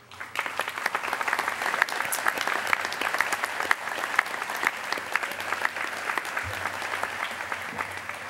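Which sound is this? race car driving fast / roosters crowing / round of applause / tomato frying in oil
round of applause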